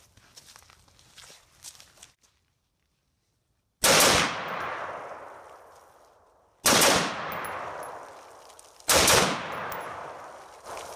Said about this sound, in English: I'll try a couple of double taps, and then I'll try to do a string of fire